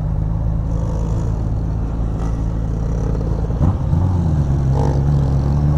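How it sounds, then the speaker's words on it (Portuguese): Busy road traffic heard from among the cars, with a continuous low engine rumble and one vehicle whooshing past midway. "Muito carro aqui, velho! Muito carro!"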